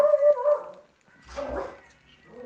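A dog barks loudly and close by, giving a couple of sharp barks, a brief pause, then a longer whining bark.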